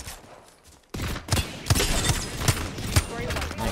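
Rapid bursts of gunfire from a match of the battle royale game Apex Legends, several sharp cracks in quick succession over a dense, busy background of game noise.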